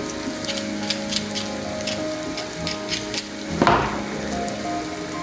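Onions and garlic frying for a homemade tomato sauce give a steady crackling sizzle with scattered pops. Near the end comes a brief louder clatter. No one speaks.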